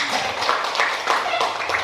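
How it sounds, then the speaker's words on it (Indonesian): A class of pupils claps for a classmate, giving quick rhythmic applause in repeated bursts, with voices mixed into the clapping. "tepuk tangan untuk Mami ya"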